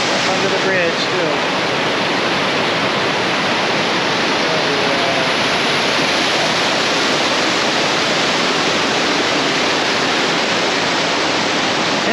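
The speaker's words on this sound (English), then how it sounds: "Waterfalls everywhere." Broad, steady rush of falling water from a Yosemite waterfall, loud and close, continuous without pause for the whole stretch, with a faint voice briefly audible near the start.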